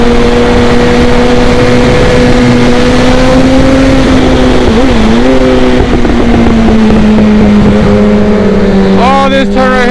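A tuned Suzuki GSXR1000 motorcycle with a full exhaust drones loudly at steady speed, its engine note holding level and dipping briefly before a sharp rise in revs near the end, with wind rush throughout.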